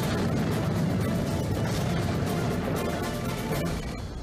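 Tank turret cannon fire and machine gun bursts from a KV-1 heavy tank attacking a German motorized column at a crossroads, a dense, loud, continuous barrage of blasts and rattling fire with no clear gaps.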